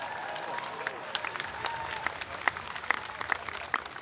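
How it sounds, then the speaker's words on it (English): A commencement audience at DePauw University applauds the graduates, a broad crowd clapping throughout with sharp individual claps standing out near the mic. "yes, that deserves a round of applause."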